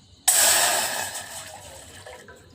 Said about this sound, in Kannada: ಒಂದೂವರೆ ಕಪ್ಪಷ್ಟು ನೀರು ಹಾಕ್ತೀನಿ